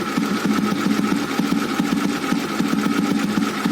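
Old Royal Enfield Bullet single-cylinder engine idling with a VM-24 carburetor, a loud, close, rhythmic thumping beat that holds steady as the revs climb slightly.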